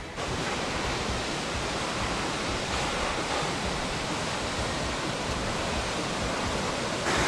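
Waterfall number five near Pucón, Chile, pours as a steady, loud, broadband roar of falling water that holds unchanged throughout, with no voices.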